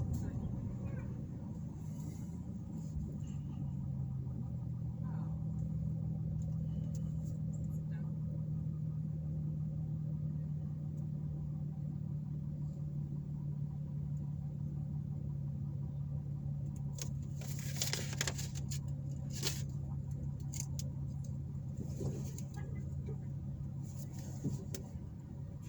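A car drives around the town of Pendleton, Indiana, heard from inside as a steady, low road rumble and engine hum with a few brief rattles, under occasional talk.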